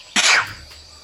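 A single loud sneeze bursts out close by, sharp and breathy, then trails off quickly into quiet room tone during a tabletop role-playing game session.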